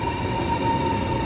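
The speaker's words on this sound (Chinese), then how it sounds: "高铁进站了，进站了，进站了，进站了，进站了，和谐号列车" A Hexie bullet-nosed high-speed train pulls into a crowded station platform, a steady close rumble with a sustained whine and faint wheel squeal.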